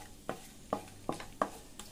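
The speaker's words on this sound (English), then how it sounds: "bay leaves, and some dry spices, some cardamom, I'm going to let this fry a little" Bay leaves, cardamom and dry spices fry in a pan, heard as a quiet background sizzle broken by four or five distinct scraping stirs at a steady rhythm.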